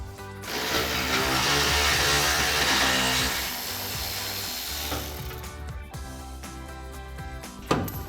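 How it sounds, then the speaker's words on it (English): Ratchet wrench working the muffler isolator bolt free on an EcoBoost F-150 exhaust, a sustained close mechanical clatter and buzz with a rougher tail and a sharp clank near the end. "we've got one more bolt to remove on the isolator right at the back of the muffler"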